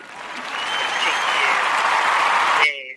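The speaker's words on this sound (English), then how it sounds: "first we have to give you a round of applause" A steady round of applause from a small group at a hair store, loud and continuous for under three seconds before cutting off abruptly, with a faint voice rising at the end.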